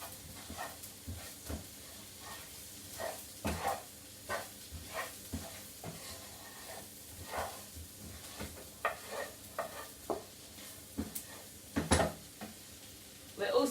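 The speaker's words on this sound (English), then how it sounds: "give that a good stir to make sure that all of that nice fresh spring onion is coated in the paprika" Spring onion and paprika being stirred in a pan, with a quiet sizzle and soft repeated scraping strokes of the spoon, faint and irregular throughout.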